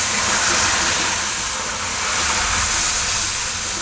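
Milk poured into hot melted sugar in a pan for a leftover-roti milk cake, giving a steady loud sizzling hiss throughout with no talk.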